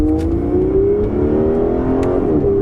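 An Aston Martin Vanquish engine pulls hard under throttle, its steady droning note climbing smoothly in pitch as the car accelerates, loud and continuous with no talking.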